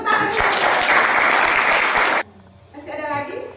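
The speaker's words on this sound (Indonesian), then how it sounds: "Oke, kita kasih tepuk tangan." An indoor group bursts into loud, dense applause for about two seconds. It stops abruptly, leaving quieter voices talking afterward.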